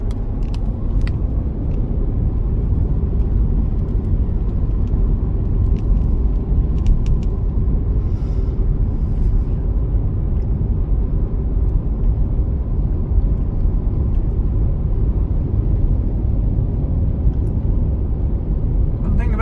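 Steady, loud road rumble of a car cruising along the Florence Kelvin Highway, an open desert road in Arizona, heard from inside the cabin as a continuous engine and tyre drone with no break throughout.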